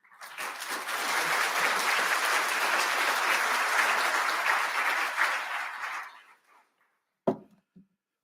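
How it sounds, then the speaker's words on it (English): A summit audience gives a sustained round of applause at the opening of a police and crime commissioners partnership summit, dense clapping lasting about six seconds before fading, then a single sharp knock and a faint thud. "Please give them a round of applause."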